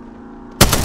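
A sudden burst of loud, close gunfire in Apex Legends gameplay erupts after a quiet moment and keeps going to the end.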